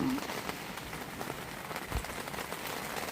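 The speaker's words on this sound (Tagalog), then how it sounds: "Lakas ng ulan." Heavy rain patters densely on a surface in a steady hiss, fairly close, over about three seconds, during a storm at a campsite in Canada.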